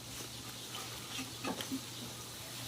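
Eggplant drops into a hot pan for a Filipino vegetable dish, giving a faint, steady sizzling hiss with a few soft splatters and clicks in the middle.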